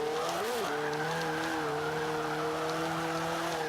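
Tires spin and squeal in the Forza 5 racing game under heavy torque, a steady high-pitched screech over a droning engine note that bends briefly upward at the start and then holds level.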